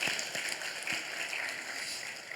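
Church congregation applauding the parents during a Sunday worship service, a steady wash of many hands clapping at moderate level with no talk over it.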